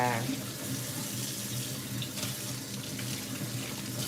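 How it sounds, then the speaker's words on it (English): Tap water runs steadily from a kitchen faucet into a sink while hands are rinsed, a continuous close splashing hiss with no talk. "I'm gonna rinse my hands off"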